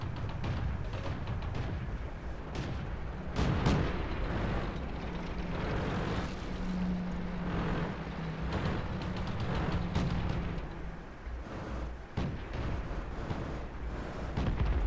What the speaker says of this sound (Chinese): 哇，都是炮声的